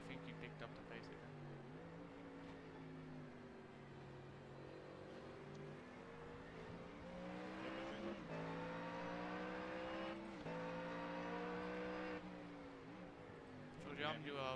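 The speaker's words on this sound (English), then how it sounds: "I do have a massive V8 whirring" Deep V8 race car engine from an iRacing Daytona 24-hour race drones steadily near and loud, its pitch rising and falling through gear changes, with team radio chatter under it.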